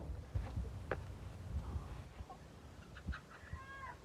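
Chickens cluck and squawk faintly in the background, with a few sharper calls near the end over a low breezy rumble.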